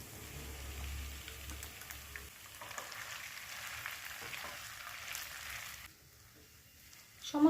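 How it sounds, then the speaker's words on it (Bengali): Grated potato frying in a pan with ground roasted coriander and cumin, a soft, steady sizzle with faint crackle that drops away near the end, followed by a brief clatter. "এবার গ্রেট করে নেওয়া আলুটা দিয়ে দিলাম।"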